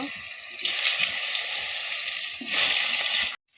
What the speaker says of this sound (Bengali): এবার আমি এই লবণ আর হলুদ দিয়ে মাখিয়ে রাখা কচুগুলো তেলের ভিতরে দিয়ে দিব